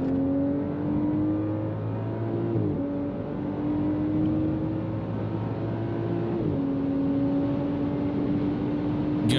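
A 400 hp BMW 535i F10 fitted with a REMUS exhaust accelerates hard, its engine note climbing steadily through two gear changes with brief dips between pulls, a loud continuous drone with no talking.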